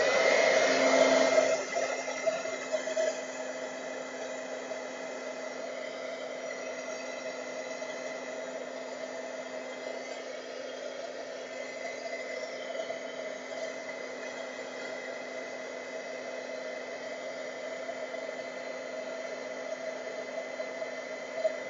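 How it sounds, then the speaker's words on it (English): Steady, loud hair-dryer-style heat tool blowing continuously while drying bleach coloring, a constant broadband whoosh with a faint motor hum, slightly louder at the start and no voices. "Now I'm going to bring in my heat tool just to quicken the process."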